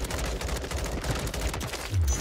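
An M16 rifle fires in Warzone in rapid, continuous bursts, each sharp report close and loud, forming a dense, steady stream of gunfire with almost no pauses.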